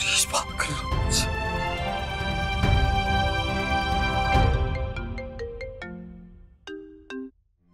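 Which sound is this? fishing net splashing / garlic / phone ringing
phone ringing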